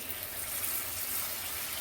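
Water poured into a pan of anchovy (nethili karuvadu) thokku, a steady, close, broadband gushing and splashing that continues unbroken and evenly loud throughout.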